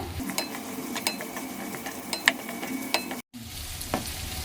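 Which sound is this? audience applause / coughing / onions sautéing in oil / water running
onions sautéing in oil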